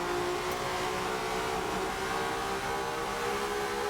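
Race cars on track at Silverstone in a sim racing game, a steady dense engine drone of several cars running together, loud and continuous throughout with no talk.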